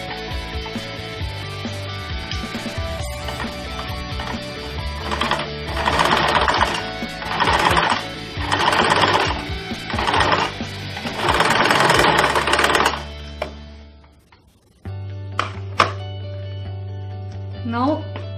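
A sewing machine runs in repeated bursts of rapid stitching, sewing Velcro onto a fabric keychain, with short pauses between runs and a quieter stretch near the end.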